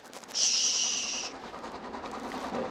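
A voice imitates an old fuel-powered train, giving a loud hissing, steam-like whoosh that lasts about a second before fading into quieter noise.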